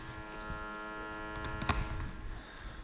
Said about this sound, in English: And my shaver is turned on.